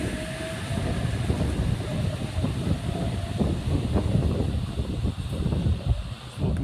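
A Sydney train runs through Koolewong station, a rumbling rail roar with wheel clatter and a faint squeal, steady and fairly close, with some wind buffeting over it.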